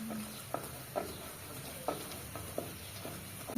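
Green banana curry cooks on a stove in a home kitchen, a faint, quiet sizzle broken by a few soft stirring clicks and scrapes.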